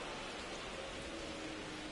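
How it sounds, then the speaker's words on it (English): Steady, hissing rainfall in a baseball video game, an even wash of noise with no breaks and no voices. "The rain is here, and it doesn't look like it's going away anytime soon."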